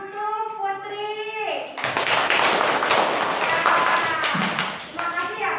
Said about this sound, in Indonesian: Kita tepuk tangan untuk Putri.